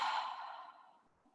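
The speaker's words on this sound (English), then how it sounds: "And then breathe." One long, soft exhale during gentle yoga practice, a breathy sigh close to the microphone that slowly fades over about a second.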